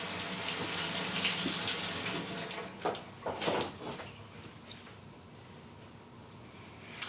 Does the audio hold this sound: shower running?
yes